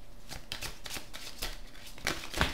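Tarot cards are shuffled by hand up close, a quick series of riffling, flicking bursts in an uneven rhythm over a couple of seconds, with no voices.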